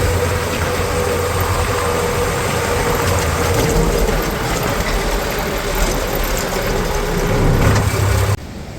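A tractor engine idles close by with a loaded trailer, a loud, steady mid-pitched rumble that runs unbroken for several seconds before dropping off abruptly near the end.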